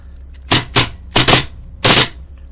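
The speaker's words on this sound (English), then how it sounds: "Okay, see, that is an auto fire." Gas blowback Hi-capa airsoft pistol with a leaf spring firing on full auto, four sharp, loud, close cracks in quick bursts, two of them doubled, with no talk over them.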